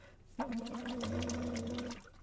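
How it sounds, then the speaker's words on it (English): Bubbles blown through a straw into water combined with a uvular trill, a continuous buzzing, gurgling tone lasting about a second and a half, close and fairly loud. "start the bubbles and then add the uvular trill"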